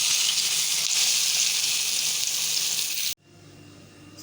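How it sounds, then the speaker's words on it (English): Chicken malai boti cheese pockets fry in hot oil with a loud, steady, dense sizzle that carries for about three seconds, then cuts off sharply, leaving a quieter background hiss. "So now we have to just fry it. Oil is enough hot. I'm gonna fry this."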